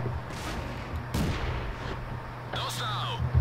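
Tank cannon shots in World of Tanks: two or three booming blasts spaced about a second apart over a steady engine rumble, followed by a higher whistling tone.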